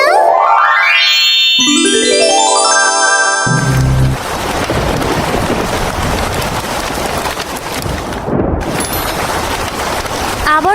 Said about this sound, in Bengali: আবারও বৃষ্টি শুরু হলো।